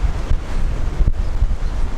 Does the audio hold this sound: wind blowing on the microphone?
yes